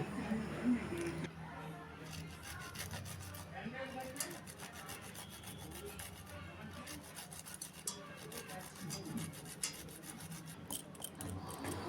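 Green chili is grated by hand for sabudana luchi, giving soft repeated scraping rasps in short bursts, quiet and close, with brief talk in places.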